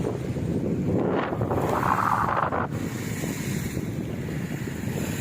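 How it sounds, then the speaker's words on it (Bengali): Roaring storm gusts of Cyclone Remal batter the microphone by the churning Rupnarayan river in Tamluk, a constant heavy rush of wind and water that swells briefly midway, with no one speaking. "ঝড়ের গর্জন"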